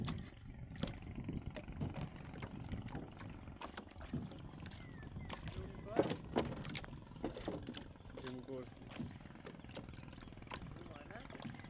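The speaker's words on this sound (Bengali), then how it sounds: "প্রকৃতির ভিতর দিয়ে লঞ্চ এখন আসবে আমাদের সামনে" A passenger launch boat approaches across open water through natural surroundings, its engine a steady low rumble mixed with outdoor noise while people talk over it throughout.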